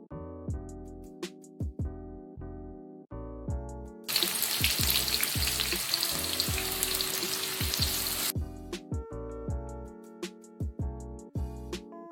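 Dense broadband sizzle of shallots frying in hot oil for a nasi uduk topping, loud and steady for about four seconds, with music playing before and after.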